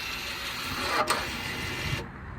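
The electronic parking brake motor on a BMW 520d retracts with a steady mechanical whirring hum, faint and close, that stops abruptly after about two seconds.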